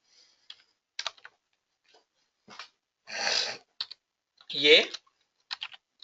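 Keys clatter on a computer keyboard as code is typed, in short sparse bursts of clicks with a couple of louder, longer clattering runs, close and fairly quiet, with no talking.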